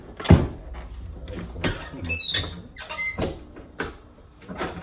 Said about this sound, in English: And don't laugh at my squeaky press.